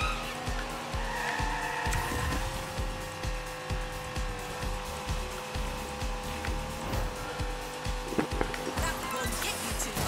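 Race cars in the Hotshot Racing video game on Nintendo Switch skid and squeal their tires over a steady engine drone, with repeated short screeches and a few sharper knocks, all at moderate, even loudness.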